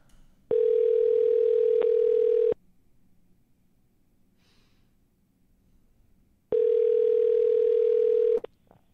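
Two long, steady telephone ringback tones sound during a cold call, each about two seconds with a silent gap between, clear and close with no talking.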